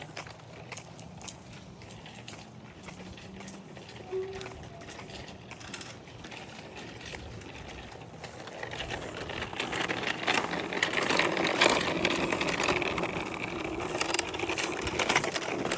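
Children riding bicycles with freewheels giving a continuous ratcheting tick. The clicking rises and thickens toward the end, against a broad outdoor background.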